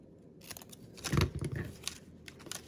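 Scissors snip through paper while a card-in-a-box card is being made: a quick run of crisp cuts and rustling close by, loudest in the middle, with no talking.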